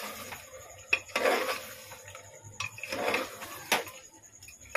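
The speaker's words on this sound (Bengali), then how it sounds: "আলুটা দিয়ে কষাচ্ছি, আর একটু কষাবো তারপরে জল দেবো" Mutton and potatoes being sautéed in a pot, with metal spoon clanks and scrapes against the pot in several bursts, close and moderately loud, with no talking.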